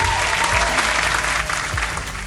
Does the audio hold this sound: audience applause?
yes